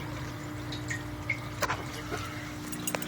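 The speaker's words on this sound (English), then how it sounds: "We are achieving a constant drip rate." Water drips and trickles in a DIY aquaponics air lift system fed from a 55-gallon drum holding live fish, with soft irregular drops and splashes over a constant hum of pumped water.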